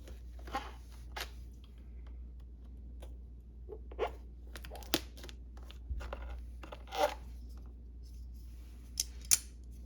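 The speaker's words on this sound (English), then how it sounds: "Now we need to take a knife and cut an X right here to open up the panel." A knife slices an X into the plastic panel of a mushroom grow kit, making a few short, quiet scratchy cuts and rustles spaced apart, with no talking.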